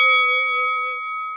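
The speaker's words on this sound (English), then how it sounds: "hit that notification bell, something like this" A notification bell sound effect rings out as one bright, clear ding whose tone slowly fades away, loud and alone.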